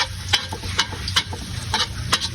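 Ginger and garlic sautéing in a pan, a steady sizzle and fry under repeated sharp scraping and stirring strokes of a utensil against the pan, close and moderately loud with no talk.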